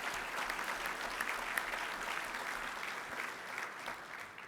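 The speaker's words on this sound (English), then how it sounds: "let's give him a round of applause for what he does for agriculture" Crowd at an agriculture event applauding a man being recognized, steady continuous clapping from many hands at a moderate distance, even in level with no speech over it.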